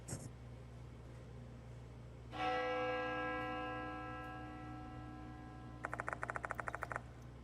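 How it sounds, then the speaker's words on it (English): A single bell from the horror game Spirit Hunter: Death Mark II strikes once and rings out with a long, slowly fading tone, followed by a brief burst of quick ticking, all quiet and clear over a low hum. "The sound of a bell echoes in my ear."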